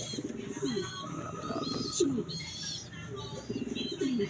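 Pigeons coo in repeated soft, throaty rolls, close by, with chirps and small rustles around them and no talk over them.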